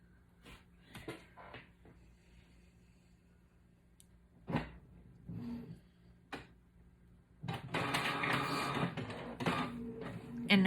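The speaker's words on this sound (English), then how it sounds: "I'm printing on the Rock inkjet or laser matte finish sticker paper" An inkjet or laser printer prints on matte finish sticker paper, with scattered clicks and thumps of the mechanism followed by a louder stretch of whirring, rattling paper feed near the end, heard close and alone.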